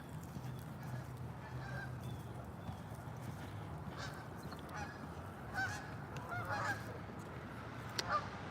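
Geese honking outdoors during warm-up flights before migrating south, faint, distant calls scattered over steady wind and ambient noise.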